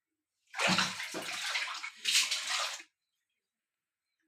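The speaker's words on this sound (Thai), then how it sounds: "ตรงนี้มีรูนยเนี่ย มีน้ำออกมา" Water splashing and pouring in a bath as a child plays, a broadband rushing burst lasting about two seconds, a short pause, then another loud gush before falling silent.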